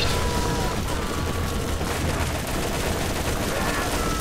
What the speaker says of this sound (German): Hört, wie unsere Waffen spricht.